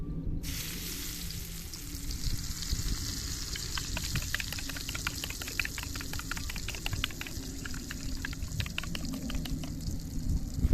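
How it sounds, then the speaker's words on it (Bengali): Brinjal sizzles and spits steadily in hot oil in a pan, a loud continuous frying hiss with crackling pops that thicken as it goes, heard alone with no talk. "তেলটা মোটামুটি গরম হয়ে গেছে বেগুনটা দিয়ে দেবো"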